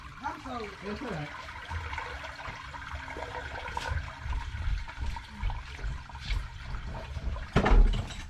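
Water gushes and gurgles down a drain just cleared of a clog of shredded wipes and underwear, a steady rushing flow with surges and a louder splash near the end, with a voice talking over it.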